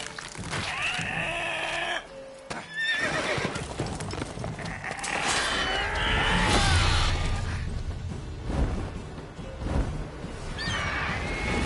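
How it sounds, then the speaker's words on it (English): A horse neighs and whinnies in The Witcher 3, with harmonic calls rising and falling over continuous game ambience and other animal-like cries through the scene. "Well, whatever it is eating a fucking horse."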